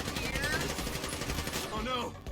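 Rapid automatic gunfire from the video game GTA rattles in dense bursts at close range, with game voices and music mixed underneath.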